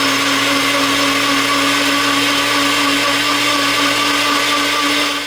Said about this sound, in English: Close it up, and then we're gonna blend until it's nice and smooth.